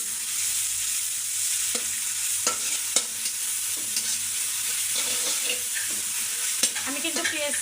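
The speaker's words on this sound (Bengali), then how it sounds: "দিয়ে দেবো হচ্ছে পেঁয়াজ, এরপর এই যে কাঁচামরিচ। এখন এগুলো হচ্ছে খুব ভালো করে ভেজে নেব।" Chopped onions and green chillies frying in mustard oil, a continuous sizzle broken by repeated spatula taps and scrapes against the pan, close and even throughout.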